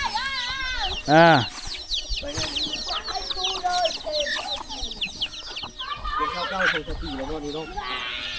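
Chickens in a mountain-ringed village cluck and squawk in a busy overlapping chorus, one loud rising call standing out near the start, with voices talking nearby.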